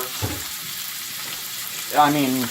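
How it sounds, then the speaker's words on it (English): Shrimp cook in a pan with a steady low sizzle under brief bits of talking. "shrimp cook in like a blink, don't they?"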